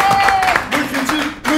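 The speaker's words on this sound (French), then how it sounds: "Un maximum d'applaudissements pour Monsieur Mariani." An audience at a televised cooking competition applauds, with clapping and crowd noise running under a person's voice throughout.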